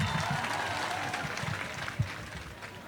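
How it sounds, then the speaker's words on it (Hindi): Audience applause at an Urdu poetry mushaira, a steady wash of clapping from a large seated crowd, moderately loud and sustained with a few sharper claps standing out. "उनके लिए ज़रा तालियां बजा दीजिए"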